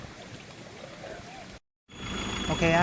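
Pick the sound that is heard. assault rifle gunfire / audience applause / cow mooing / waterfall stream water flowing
waterfall stream water flowing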